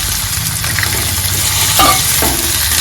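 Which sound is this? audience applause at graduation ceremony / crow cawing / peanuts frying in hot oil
peanuts frying in hot oil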